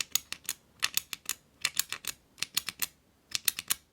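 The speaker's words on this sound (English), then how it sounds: "the sound it makes is only the button" Titanium Lautie Coil flashlight button clicked repeatedly, giving sharp, quiet, crisp clicks in uneven clusters and pairs close to the listener.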